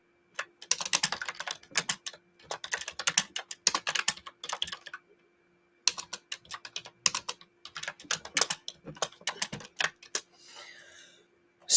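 A clicky computer keyboard is typed on in quick, busy bursts of close, crisp keystrokes, separated by a few short pauses. The typing is heard alone, with no voice over it.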